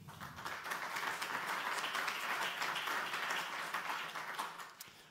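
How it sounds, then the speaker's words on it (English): Audience applause for a panel speaker at a media forum discussion on racism in football, a steady, dense wash of clapping lasting about five seconds and fading slightly at the end, with no talk over it. "please an applause for Christoph Ruf."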